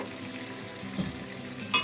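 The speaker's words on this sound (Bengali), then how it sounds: "এখন যে আলুটা ভেজে রেখেছিলাম, ভাজা আলুটা দিয়ে দেব" Fried potatoes go into a pan of mutton kosha, a Bengali braised mutton, and sizzle steadily in oil with a soft stir partway through and a brief clatter at the end, close and fairly quiet.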